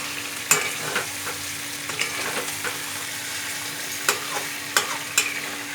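Curry being sautéed and stirred in a frying pan, with a steady close sizzle broken by sharp scraping stirs of the spoon against the pan at irregular intervals, and no talking.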